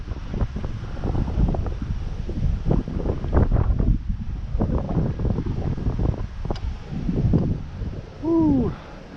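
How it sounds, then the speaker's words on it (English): Wind gusts buffet the microphone outdoors while a small MJX Bugs 3 Mini RC quadcopter flies in acro mode, a steady rumbling rush with low, unsteady swells and no talk. "The wind is kind of messing with me here a bit."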